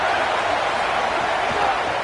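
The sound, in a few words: crowd noise in a football video game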